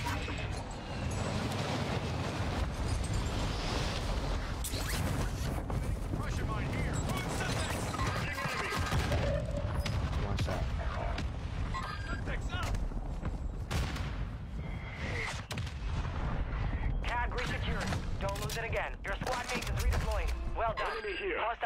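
Gunfire in a video game shooter: rapid bursts of shots and impacts packed densely through the whole stretch, loud and continuous beneath game noise and voices talking.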